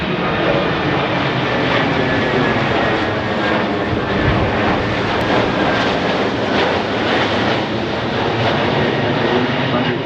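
An RAF Voyager MRTT tanker-transport jet roars past at Farnborough Airshow, a loud, steady broadband engine rush that fills the whole stretch without letup.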